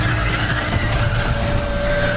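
In the Need for Speed Run racing game, race car tires squeal in a sustained, loud skid over a constant engine roar during a police chase, with no talking.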